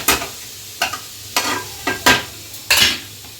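Paneer frying in a pan under a low sizzle, with five or six loud, distinct stirring scrapes at irregular intervals, close to the listener, no talking.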